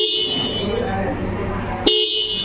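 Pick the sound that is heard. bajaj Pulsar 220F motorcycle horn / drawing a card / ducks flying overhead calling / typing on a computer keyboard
bajaj Pulsar 220F motorcycle horn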